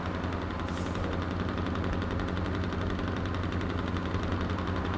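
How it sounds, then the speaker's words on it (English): A loud Kenworth truck engine in a trucking video game drones steadily and continuously, a dense rumbling roar with constant knocking pulses throughout and no speech. "It's got a loud engine."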